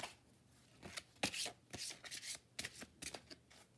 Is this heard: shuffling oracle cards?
yes